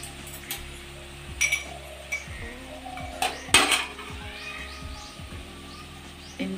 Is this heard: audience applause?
no